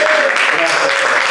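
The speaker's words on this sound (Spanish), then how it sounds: "Dar un aplauso" Congregation applause fills a Sunday church service, a dense steady wash of many hands clapping together at close range, with a faint voice line running through it for just over a second.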